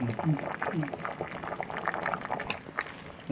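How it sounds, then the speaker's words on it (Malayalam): Water from boiled cassava for a Kerala-style cassava and beef biryani pours and splashes into a colander, a steady liquid rush close by with a voice talking over it. "ഇനി നമുക്ക് ഇതിൻ്റെ വെള്ളം ഊറ്റിക്കളയാം."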